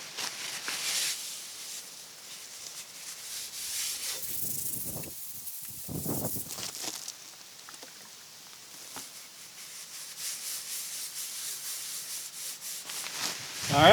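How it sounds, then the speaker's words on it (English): A hot cast iron griddle being wiped down with canola oil at a campsite, heard as soft, faint rubbing and scraping strokes in irregular bursts over a quiet background. "Wipe this guy down and then wipe it down with a little canola oil."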